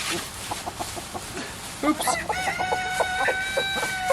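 Chickens in a backyard coop cluck and chatter in scattered short calls, with a rooster's crow rising partway through, close and lively against a faint outdoor background.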